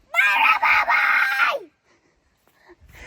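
A man gives one loud, sustained scream lasting over a second with a brief break in the middle, then it cuts off into near silence with faint rustling.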